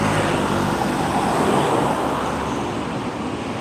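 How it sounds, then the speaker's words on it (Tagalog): Heavy road traffic with large trucks rumbling past near the foot of the All Zigzag Road in Atimonan, Quezon, a steady loud broadband roar that eases slightly toward the end, with no speech. "Lalaki na truck dito, grabe ah."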